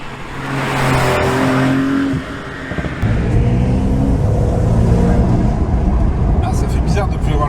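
A Porsche 911 T engine pulls and revs under way, a rough mid-range growl swelling louder after a brief dip, with people talking over it.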